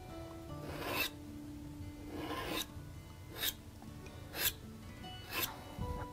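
Scraping yellow paint off a painted city scene, heard as five or six separate rasping strokes spaced about a second apart, quiet and close, with no voices.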